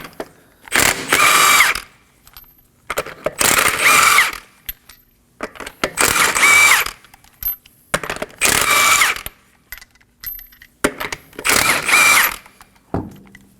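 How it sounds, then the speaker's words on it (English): On a Kia Sorento, a 21mm socket on an impact gun loosens the wheel nuts: five loud, separate whirring bursts, each about a second long, with short pauses between them and no talking. "Using a 21mm socket, we're going to remove the wheel."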